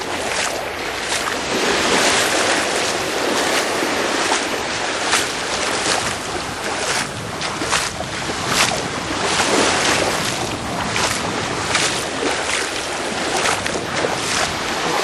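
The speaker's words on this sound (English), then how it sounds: "walking on the water to be exact." Footsteps wade through shallow, clear sea water along an overcast beach in Thailand, with rhythmic sloshing splashes over a constant wash of surf and wind.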